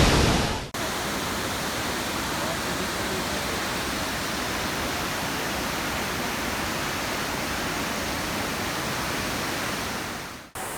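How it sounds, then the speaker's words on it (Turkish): Kapuzbaşı waterfall in Kayseri, Turkey, a steady full roar of falling water that fills the whole sound, loud and unbroken from start to finish with no voices. "Kapızbaşı Şelalesi görüyorsunuz."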